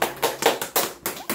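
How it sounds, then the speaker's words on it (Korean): Clapping for a silver play button unboxing: a few hands clap in a loose rhythm of about six sharp bursts, close and moderately loud. "박수"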